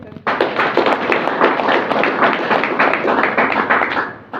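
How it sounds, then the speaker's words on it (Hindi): Loud, dense applause from an audience at a product presentation, a steady wall of claps that starts abruptly and holds strong throughout with no speech. "जोरदार तालियां।"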